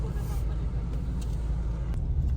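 Steady road traffic near Los Baños heard from inside a car, a constant low engine and tire rumble with faint passing vehicles and occasional clicks.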